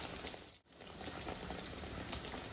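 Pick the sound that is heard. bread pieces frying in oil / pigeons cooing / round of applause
bread pieces frying in oil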